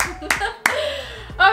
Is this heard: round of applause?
yes